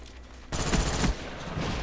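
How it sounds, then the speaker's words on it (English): A FAMAS rifle fires in Call of Duty: Black Ops. A sharp, loud volley of quick shots starts abruptly, then gives way to a lower, sustained rumble of game noise. "Alright, here's the FAMAS."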